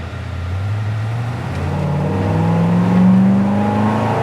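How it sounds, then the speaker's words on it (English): A 1972 Chevelle Malibu's engine revs up steadily, its deep exhaust rumble rising in pitch and loudness, then holding near the peak. "Great sounding exhaust"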